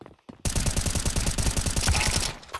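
Rapid gunfire in Counter-Strike during a competitive league match, a dense run of loud repeated shots firing at a steady rhythm for about two seconds after a brief quiet start, then cutting off.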